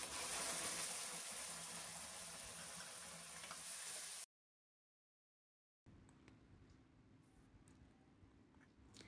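Spinach purée poured into a hot pan of sizzling spices for lasooni palak paneer, giving a steady close frying hiss that cuts out briefly and returns quieter, bubbling softly.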